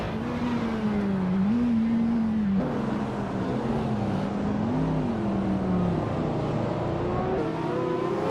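Porsche Carrera GT in a racing video game, a steady, droning engine note rising and dipping slightly with throttle as it cruises, continuous and close with no talking.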